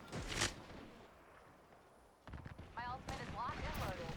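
Scattered gunfire in Apex Legends: a sharp burst at the start, a quieter lull, then a cluster of louder shots and impacts near the end, with a few ricochet-like whines.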